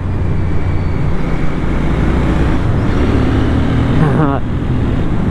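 A Royal Enfield Bear 650 motorcycle engine revs up toward 5000 rpm, a loud, steady, close-up drone with a rising whine near the end.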